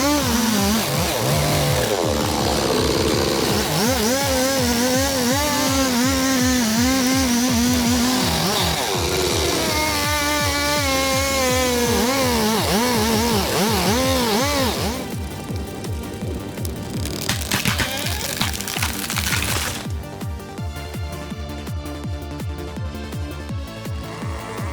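A Stihl 090G and a McCulloch 797G chainsaw cut timber. Loud two-stroke engines rev up and down with a wavering pitch, then settle into a sustained buzzing cut that runs continuously and close to the microphone.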